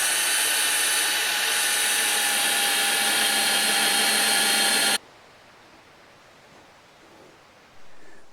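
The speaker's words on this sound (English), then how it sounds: "Let's drill another one." A power drill bores a hole for a homemade pig waterer. It gives a steady, loud, whining roar for about five seconds, then cuts off abruptly, leaving quiet background hiss.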